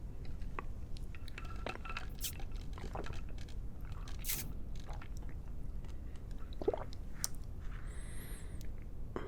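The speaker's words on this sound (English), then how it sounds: "a sip of water" A sip of water taken close to the microphone in a quiet ASMR session, with soft wet mouth sounds, a faint glass clink and scattered small clicks over low background hiss.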